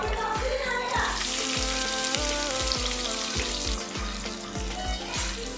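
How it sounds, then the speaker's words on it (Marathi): Onions sizzle and crackle steadily in hot oil in a pan while chicken biryani is prepared, with sharp regular clicks over a dense, constant frying hiss. "आता कांदा टाकून घेऊया."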